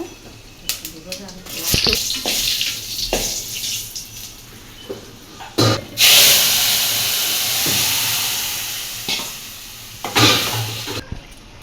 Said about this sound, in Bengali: এখন দিয়ে দিবে পাঁচ ফোড়ন শুকনো মরিচ আর তেজপাতা